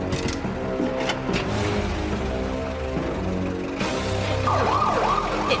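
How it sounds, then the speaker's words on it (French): Ambulance siren in an animated French cartoon wails loudly and continuously, with a rising and falling tone sweeping near the end over engine and traffic rumble. "Eh oh, mon ambulance!"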